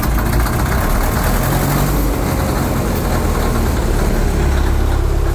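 Diesel engine of an Austin Western 99H road grader running cold, a loud, steady, rough low rumble that fills the whole stretch, close by, with no talking.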